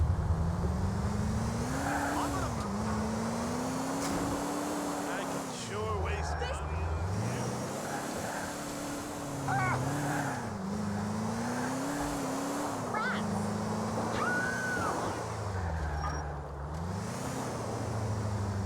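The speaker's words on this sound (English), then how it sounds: "this is no sports car, but I do like the Cognoscenti overall" A Cognoscenti car in the game GTA IV drives with a steady engine drone that rises and falls as it speeds up and eases off, under faint background sounds.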